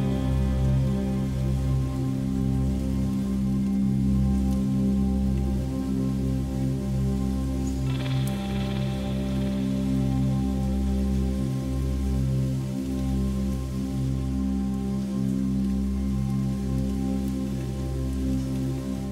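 Steady, dense rain pours continuously into an abandoned, fire-damaged mansion, with a constant low rumble of water, unbroken throughout and fairly loud, with no voices present.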